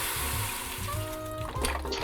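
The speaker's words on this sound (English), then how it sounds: "Our next ingredients is chicken broth. I have about 4 cups here. I'm just gonna pour it right in." About four cups of chicken broth pour into a pot of seasonings for Filipino arroz caldo, a continuous close gurgling, splashing stream that swells near the end.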